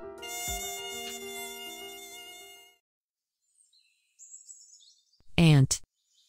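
A mosquito buzzes in a short, thin whine for about three seconds, loud at first, then fades. After a pause comes a faint high chirping, and at the end a brief burst of voice.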